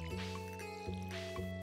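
A watering can wets the soil in Stardew Valley with soft splashy squishes, three short pours in quick succession over a quiet, tonal game soundtrack.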